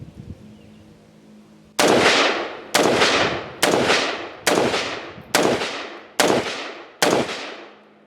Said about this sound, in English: it's just a very comfortable gun to shoot, using your standard P-mags